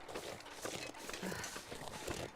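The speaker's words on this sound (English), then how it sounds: "I hear all the deer footsteps" Deer hooves patter steadily on the ground in the survival game The Long Dark, Wintermute story mode, a quiet, rapid, irregular clopping heard at a distance under a soft background hiss.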